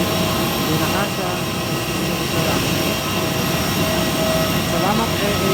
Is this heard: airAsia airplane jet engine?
yes